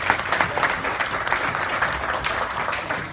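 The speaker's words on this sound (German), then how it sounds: "Ein Applaus für Sie." An indoor audience claps steadily for Mayor Wolf of Oldenburg at an event, with dense, fairly close applause that holds evenly throughout and a little crowd murmur underneath.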